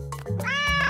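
A cartoon cat meows twice in a bright, tonal voice, close and clear, the second call long and rising before it trails off; nothing else is audible.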